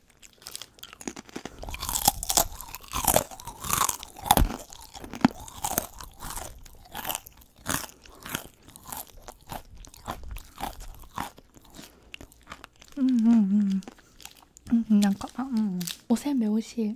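Loud, close crunching and chewing of natto-flavoured snack crackers, with repeated crisp bites through the first half, followed by a voice speaking in short bursts near the end.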